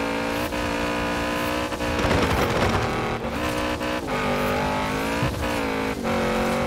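Engine roar of a Lamborghini Urus in Forza Horizon 4, revving steadily with a gear shift and a burst of rough tire and landing noise midway, loud and continuous with no talk.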